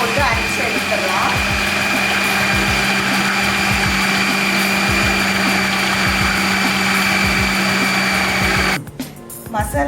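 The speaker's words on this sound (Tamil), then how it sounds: "கொண்டக்கடலை போட்டு அரைச்சி எடுத்துடலாம்" A mixer grinder runs loud and steady, grinding chickpeas and garlic with a rough whirring drone and rhythmic chopping pulses, then cuts off just before the end.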